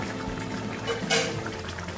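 A potato and soya chunk curry simmers in a pot with a soft, bubbling gurgle and a few brief louder splutters, heard close and moderately quiet with no voices.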